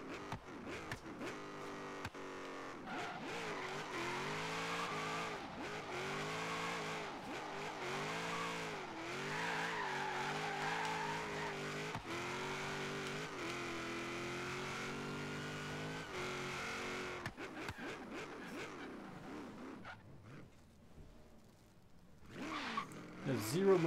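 Race car engine in Forza Horizon 3, a sustained high revving drone with gear shifts and pitch swoops, tires squealing near the end, while a person talks over the game sound.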